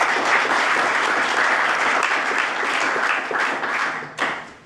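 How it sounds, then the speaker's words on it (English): An audience gives sustained applause for a speaker, a thick, even clatter of many hands that holds steady and then thins out near the end. "So let's maybe some applause for Richard"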